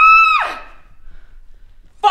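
A woman screams at close range, a loud, sustained shriek that breaks off after about half a second and is followed by near silence, then the start of another sharp vocal burst.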